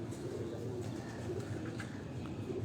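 Pigeons at a loft give soft, continuous low cooing in a steady murmur, close and moderately quiet with no talk over it.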